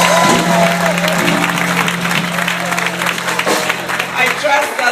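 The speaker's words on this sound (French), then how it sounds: "Give them a hand." A congregation's applause rolls on for several seconds, a dense, loud clatter of many hands with a crowd murmur and a voice over it, fading slightly toward the end.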